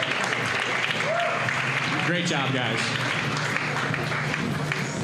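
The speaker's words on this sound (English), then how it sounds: "give a big round of applause for John Panning" Audience applause for a fighter in a cage-fighting event, loud continuous clapping filling the room while someone speaks briefly over it.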